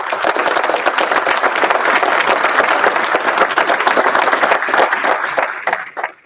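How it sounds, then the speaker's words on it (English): Sustained applause fills a university Honors Day ceremony hall, a dense wash of many hands clapping steadily for about six seconds before tapering off at the end. "Let's give them all one more round of applause."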